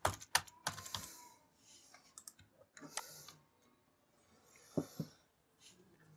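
Typing on a computer keyboard, close and quiet, with irregular bursts of key clicks separated by short pauses.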